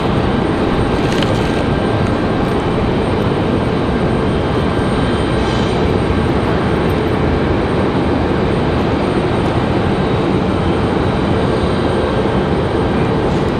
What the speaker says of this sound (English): Another 737-900.